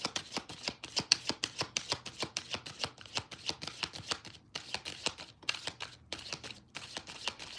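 A deck of playing cards is shuffled close up during a tarot-style reading, a rapid run of crisp riffling flicks and slaps in a steady rhythm with brief pauses, and no talk over it.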